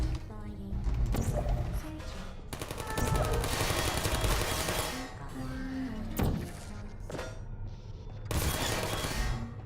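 Rapid bursts of turret gunfire in the video game Portal, loud and sustained in several volleys with impacts and thuds, while someone talks over the shooting.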